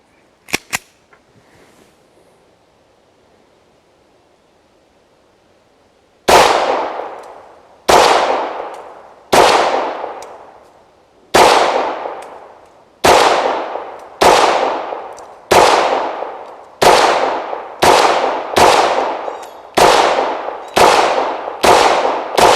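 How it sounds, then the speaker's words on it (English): Beretta M9A1-22 pistol firing at an outdoor range: about fifteen sharp, loud shots in a steady string that gets faster toward the end, each with a short ringing decay, after a quiet stretch with a couple of faint clicks. "we're at the range today with the Beretta M9-22. Go ahead and take some shots and see how it does."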